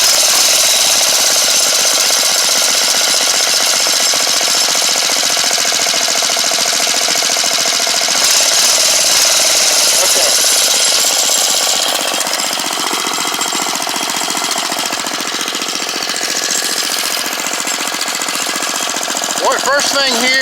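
A small gasoline engine runs steadily while its carburetor is adjusted, giving a loud, rapid, buzzing rattle that holds throughout with only slight shifts in tone.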